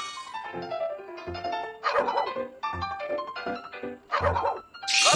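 A cartoon puppy barks a few times in the children's educational game Baby Panda's School Bus. The short yaps come at intervals over a steady, bright backing music track.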